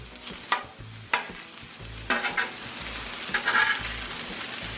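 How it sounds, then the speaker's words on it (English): A metal spatula chops and scrapes through already-cooked jambalaya rice frying on a Blackstone griddle, with sharp clacks at irregular intervals over a steady close sizzle. "get it chopped up a little bit with my spatula"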